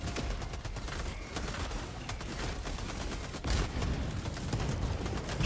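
Rapid sustained gunfire from a Gatling gun in the Helldivers 2 battle, a loud dense stream of shots with heavier bursts and impacts layered over chaotic combat noise.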